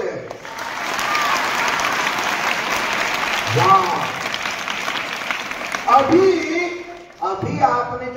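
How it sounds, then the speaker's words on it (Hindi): Audience clapping fills a lecture hall during a Hindi personality-development talk, a broad steady wash of applause with scattered voices and shouts breaking through near the end. "अभी आपने जो ताली बजाया"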